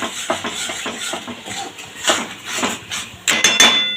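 Drumstick (moringa) mash being stir-fried and pressed in a pan for a bharta, with repeated scraping and clinking of a spatula against metal in an uneven rhythm, close and fairly loud, with no talk.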